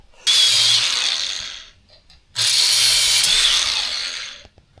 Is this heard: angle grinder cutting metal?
yes